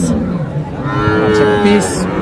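Friesian cross heifer calves low at a rural cattle market, with one drawn-out moo rising over a busy crowd murmur and another call starting near the end.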